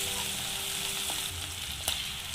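Green chillies, garlic and curry masala sizzling in a pan for a masala curry, a steady close frying hiss with a brief stirring clatter near the end.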